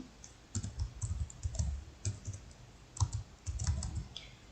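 Fingers tap on a computer keyboard while MySQL query text is entered, soft clustered key clicks in irregular bursts with brief pauses, close and fairly quiet with no voice.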